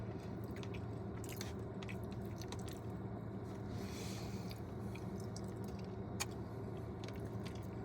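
Faint, close chewing of yam from a Jamaican takeaway in Brixton, London, soft wet mastication with a few crisp bites scattered through a quiet room.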